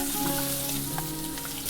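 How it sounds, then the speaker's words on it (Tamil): Diced onion sautéing in a pan for gobi manchurian, with a steady close sizzle and crackle and a few light stirring clinks, no voices. "வெங்காயம் லைட்டாக வதங்கட்டும்."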